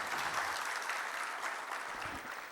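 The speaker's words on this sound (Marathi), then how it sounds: "एकदा जोरदार टाळ्या या टीमसाठी" An audience claps steadily for a team being honoured at a business quality-improvement event, a dense, even patter of many hands that holds at the same loudness throughout.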